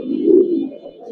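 Giribaz pigeons of an old breed line coo in a low, continuous rolling murmur, close and fairly loud, fading slightly toward the end with no talking.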